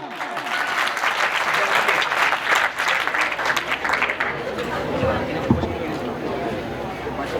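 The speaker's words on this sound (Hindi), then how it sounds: "तालियां।" An audience at a college welcome ceremony claps for a speaker, a dense, sustained round of applause that fades toward the end as voices murmur underneath.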